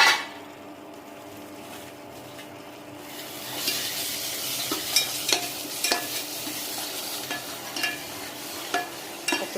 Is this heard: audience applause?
no